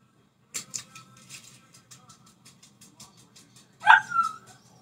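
A puppy nearby gives a rapid series of small yips and whimpers, ending in a louder whining bark.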